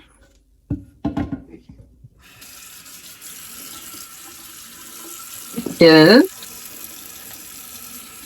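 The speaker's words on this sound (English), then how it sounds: "So I fill the sink up." Water runs steadily from a tap into a sink, preceded by a few soft knocks and a brief spoken word, with a louder splashing gush near the end.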